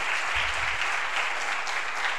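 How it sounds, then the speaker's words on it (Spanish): Audience applause for three volunteers at a science show, a dense, even roar of many hands clapping, sustained and uniform from start to finish. "aplauso para ellos tres"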